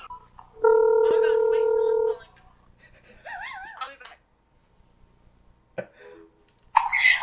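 A telephone tone rings out steadily for about a second and a half, followed by warbling electronic chirps and short noises, heard during a Fortnite gaming session.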